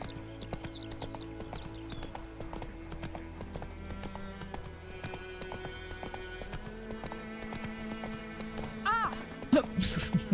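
Roach the horse gallops in The Witcher 3, with steady clip-clop hoofbeats running throughout under game music and a voice that speaks quietly, ending in a louder flurry of sounds.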